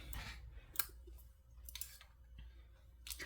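Scissors snip in a few quick, quiet clicks up close, with soft handling noises between cuts.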